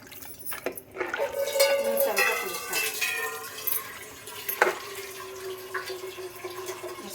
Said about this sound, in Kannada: ಸ್ವಲ್ಪ ನೀರು ಈಗಲೇ ಜಾಸ್ತಿ ಹಾಕ್ಬಿಡ್ತೀಯಾ?